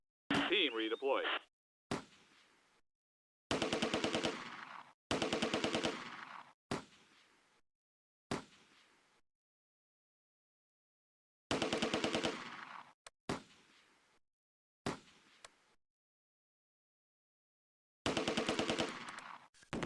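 Machine gun fire in the Close Combat: A Bridge Too Far war game, Market Garden battle at Groesbeek, arriving as loud bursts of about two seconds, several of them, separated by short single cracks and stretches of silence.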